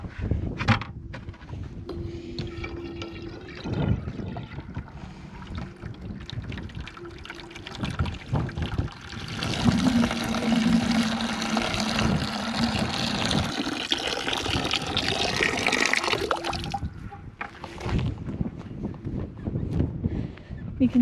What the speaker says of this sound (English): Let me go ahead and water these plants.